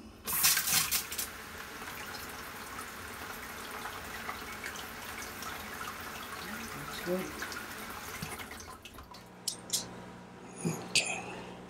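Water hisses and sprays steadily in a low-pressure aeroponics setup, with faint whispering voices and a few sharp clicks toward the end.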